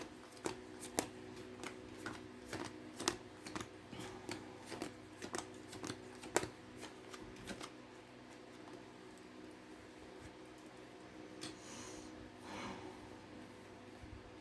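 A deck of tarot cards is shuffled by hand in a run of rapid riffling clicks and flutters over the first half, then the handling goes quiet, with only soft rustles after.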